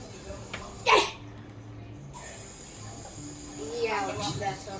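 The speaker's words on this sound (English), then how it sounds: "I just sneeze" A single sharp human sneeze bursts out early, followed by quiet background hiss and a faint rustle of movement toward the end, with no speech over it.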